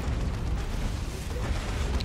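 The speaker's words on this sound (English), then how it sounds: "The las cannon taking a couple shots at my tank." Heavy, continuous low rumble of lascannon fire striking a tank in a tabletop-style battle video game, a dense booming wash with no clear separate shots, steady and loud throughout.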